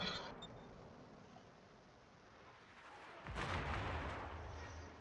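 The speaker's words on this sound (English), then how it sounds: "And Joe is taking fire now from, I'm guessing, probably Anchorage." Heavy naval guns fire in the World of Warships video game during a battle involving a Yamato battleship, a dense rumbling barrage with a louder boom midway, continuous and without speech.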